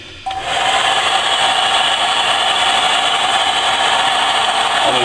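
A hair dryer whirs steadily at close range after a brief click at the start, its loud airflow holding constant to the end.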